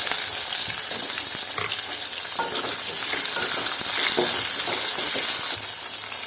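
Onion and green chilli fry in hot oil with a loud, steady, close sizzle that crackles throughout and never lets up; no one speaks.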